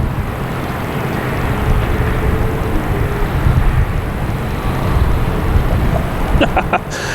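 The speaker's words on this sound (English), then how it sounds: "United Airlines heading to Houston. It is finally on the roll." A United Airlines jet bound for Houston rolls down the runway for takeoff at Boston Logan, a loud, steady, broadband engine roar held at a distance, joined by a few brief clicks near the end.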